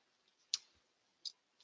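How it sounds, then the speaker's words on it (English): Computer mouse clicks on a software button, three faint, sharp clicks spaced out in a quiet room. "So I click on the validate,"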